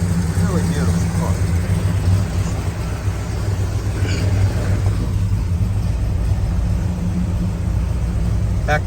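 A 1970 Pontiac GTO with its original 400 engine and four-speed idles with a steady, deep rumble close by, while someone talks over it.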